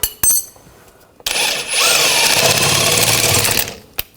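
Power tool spinning a nut off the rear suspension of a 2000-2006 BMW X5 during a lower outer ball joint job, a loud steady whir lasting about two seconds after short clicks, ending abruptly.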